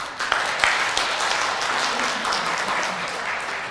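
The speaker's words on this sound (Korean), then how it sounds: "예, 박수 치셔도 돼요." A church congregation at a Catholic Mass claps in a steady, moderately loud wash of applause, with a couple of sharper claps near the start.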